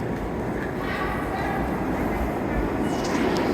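A New York subway train rumbles at Atlantic Terminal in Brooklyn, a continuous low roar with rattling undertones beneath ambient station noise, and faint voices mixed in.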